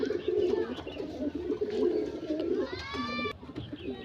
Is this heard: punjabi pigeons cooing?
yes